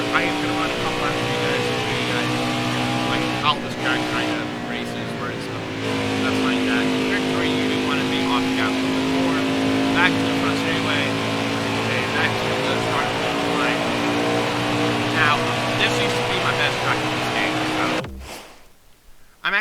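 Race car engine in an oval-track racing video game, a steady loud whine with harmonic drone and shifting pitch as the car laps, holding throughout before cutting out near the end; a voice talks over it.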